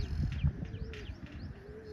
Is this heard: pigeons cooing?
yes